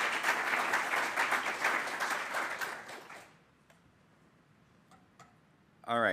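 Audience applause at a web developers' summit, clapping for about three seconds before fading out, followed by a few scattered claps and near silence, then a sudden burst of sound at the end.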